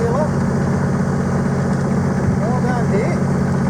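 A boat's engine runs steadily in forward gear with a little extra throttle, a constant close mechanical hum that continues throughout while people talk over it.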